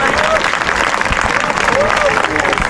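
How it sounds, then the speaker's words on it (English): Zoo show crowd at Longleat applauding a binturong named Biscuit, a loud, sustained wash of clapping throughout with a voice faintly heard under it. "Big round of applause for Biscuit the binturong."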